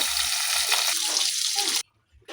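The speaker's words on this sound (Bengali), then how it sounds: "মাছটা ভাজা চলছে, প্রায় ভাজা হয়ে গিয়েছে, এবার নামিয়ে নেব।" Fish frying in hot oil near the end of cooking: a loud, dense sizzle up close that cuts off abruptly, followed by near silence.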